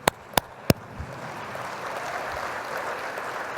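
Audience applause at a conference: three sharp nearby claps open, then the room fills with steady, moderate clapping from a crowd.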